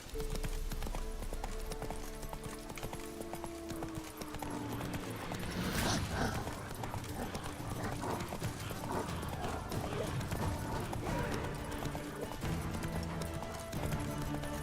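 Roach the horse trotting in The Witcher 3, a steady clip-clop of hooves with rhythmic footfalls, under faint game music and ambient sound.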